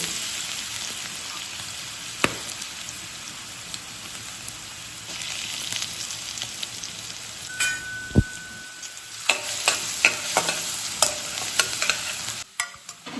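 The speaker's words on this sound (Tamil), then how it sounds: "எண்ணெய் கொதிக்குது" Ginger and garlic sizzle and crackle steadily in hot oil, with occasional sharp clinks and stirring sounds near the end.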